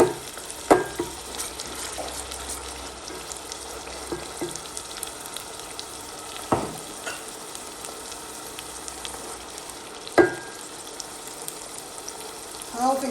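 Chili mixture frying in a pan with salt and MSG, a low continuous sizzle with a few sharp scrapes and knocks of stirring spaced several seconds apart, close and fairly quiet.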